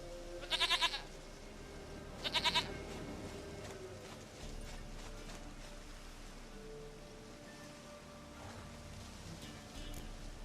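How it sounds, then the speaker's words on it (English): A goat in The Witcher 3 gives two short, quavering bleats in quick succession, fairly close, over quiet ambient game background with light rain-like hiss. "Go goat of mine, dearest, sweetest goat"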